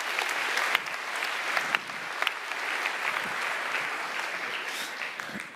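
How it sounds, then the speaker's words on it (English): An audience at a Hyperloop presentation applauds in a steady wash of many hands, with a few sharper claps standing out nearby, moderately loud throughout. "Give them a round of applause, please."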